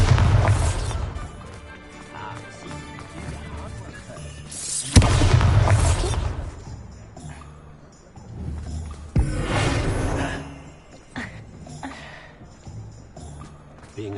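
Bombarda explosion spell cast in Hogwarts Legacy, a few heavy booming blasts with crashing debris spaced across the clip amid game sounds and music.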